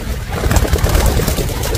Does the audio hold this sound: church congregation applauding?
no